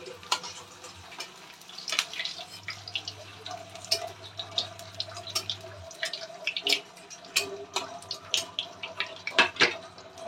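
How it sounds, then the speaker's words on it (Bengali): Potato pieces fry in hot oil in a pan, a soft continuous sizzle with scattered crackles, pops and occasional clinks of the pan, close and alone without talk. "এই তেলের মধ্যে আমি আলু ভেজে নিচ্ছি।"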